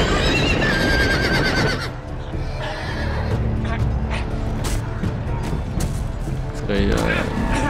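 Horses whinny and neigh amid busy Game of Thrones game noise and music, with voices talking over the top.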